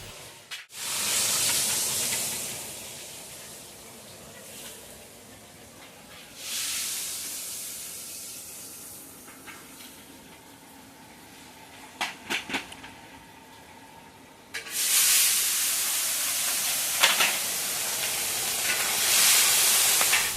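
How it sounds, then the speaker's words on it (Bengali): Fish fry in oil in a large wok while food is cooked for a big home function, giving a loud, steady hiss that dips and swells. A few sharp crackles stand out, and no one speaks. "এই কড়াইতে আমি মাছগুলো ভেজে নিচ্ছি।"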